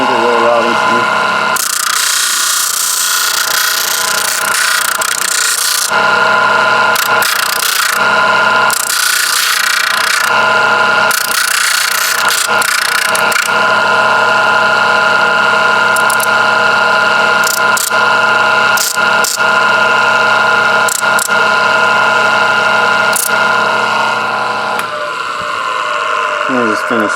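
A disc sander cleans melted edges off a cut-out model part, a loud steady mechanical whir with grinding bursts as the piece is pressed against the disc, continuous throughout.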